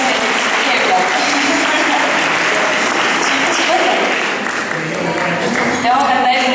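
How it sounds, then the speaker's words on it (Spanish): Loud, dense applause from an audience at a parents' school session thanking a speaker, sustained clapping throughout with voices mixed faintly into the crowd noise. "un fuerte aplauso y muchas gracias"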